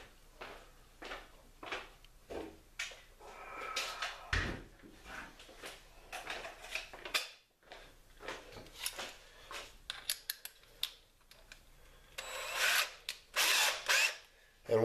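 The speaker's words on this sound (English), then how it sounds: "So let me grab a drill." A power drill drives a reamer through EVA foam rod grips on a workbench, with repeated whirring bursts, rattling handling noises and brief pauses between runs, heard close.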